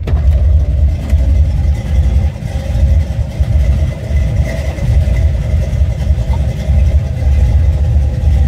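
A Buick Regal T with a 455 Stage-1 engine idles at a carburetor shop, its exhaust giving a loud, steady, deep rumble with slight uneven pulsing, close up and without talking.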